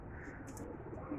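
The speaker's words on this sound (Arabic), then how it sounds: "شباب طلعت كل الطيور" Soft pigeon coos drift in over steady low outdoor background noise, faint and fairly distant, a couple of brief calls from a flock of pigeons just released from their loft.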